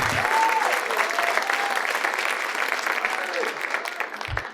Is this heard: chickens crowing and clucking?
no